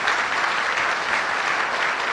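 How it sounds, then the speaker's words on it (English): Audience applause for the Korean delegation as they stand during a speech event, a dense, steady wash of many hands clapping at close range, loud and continuous without any voices over it. "Can the members of the Korean delegation please stand up so that we can give you applause?"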